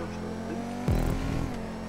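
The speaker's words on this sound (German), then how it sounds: "Ich höre den Motor schon." A GTA V car engine hums with a tonal whine, then jumps into a short, louder rev partway through.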